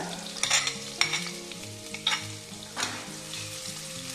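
Garlic and ginger fry in white oil in a pan, a steady sizzle under background music, broken by a few short scraping stirs.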